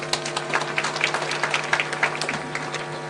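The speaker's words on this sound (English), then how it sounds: "May we clap for that." Audience clapping at a university gathering, a moderate patter of hands over a steady low hum, fairly even and sustained throughout.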